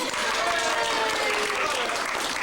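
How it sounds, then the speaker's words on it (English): Sustained applause from a crowd at an outdoor show in the England area of Epcot Center, 1991, a dense continuous wash of clapping with some voices mixed in. "they're so glad that we're here that they're bursting into applause"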